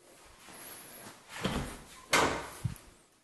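An extra-wide interior door, about 36 inches, in a Florida house for sale is moved, giving two soft thuds and a light knock indoors.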